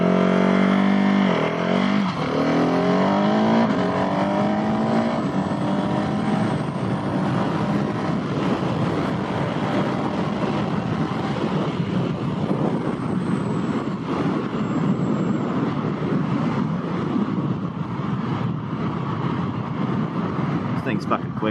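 Husky 701SM motorcycle with a Rottweiler fuel dongle accelerating hard from 0 to 60, loud engine revving up through rising gear pitches under steady wind roar.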